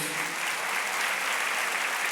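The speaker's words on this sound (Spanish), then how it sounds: "Dale un fuerte aplauso a nuestro Dios." A church congregation gives a loud, sustained round of applause to God during a sermon, a dense steady wash of many hands clapping at close range with no talk over it.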